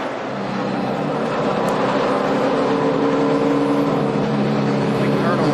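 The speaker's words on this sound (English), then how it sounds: "You hear the engine running." A NASCAR stock car engine runs steadily during a pit stop at the 2011 Ford 400, a loud continuous droning rumble under broadband race-track noise with no break across the stretch.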